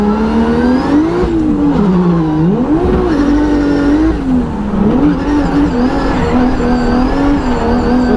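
A drift car's engine revs hard while held in second gear, a loud, continuous rising and falling drone with pitch swells as the throttle works, close and unbroken for the whole stretch.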